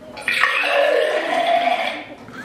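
Beer runs from a tap into a container in a pub setting, heard as a steady hissing, gurgling pour that lasts about two seconds before fading.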